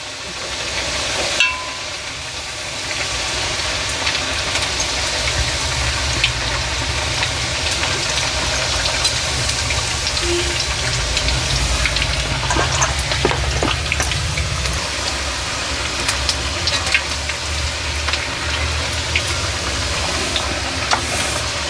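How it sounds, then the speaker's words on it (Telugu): Chekkalu rice crackers deep frying in hot oil for the Ugadi festival, a steady, continuous sizzle and bubbling hiss that holds at an even level throughout. "మన చెక్కలు డీప్ ఫ్రై అవుతున్నాయి, చూసిరండి."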